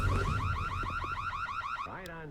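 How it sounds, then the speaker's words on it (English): A warbling alarm blares in the video game Secret World Legends, repeating rapid up-and-down sweeps at steady volume before breaking into a lower, falling siren tone near the end, heard alone with no talking. "Someone ping Cassini to shut that fucking alarm off."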